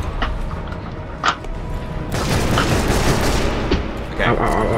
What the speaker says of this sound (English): someone threw a grenade at me!